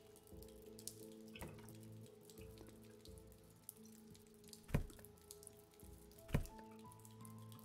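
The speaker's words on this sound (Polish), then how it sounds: "Gdzieś tu ucieknie woda." Water leaking and dripping in a House Flipper game house, soft irregular drips over a steady low hum, with two louder splashy drops standing out near the end.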